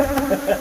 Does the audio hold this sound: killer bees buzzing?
yes